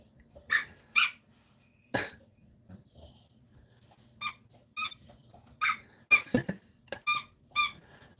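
A dog squeezes its squeaky ball, producing about a dozen sharp, high squeaks in irregular bursts, some single and some in quick pairs, close by with quiet rustling between them and no talking.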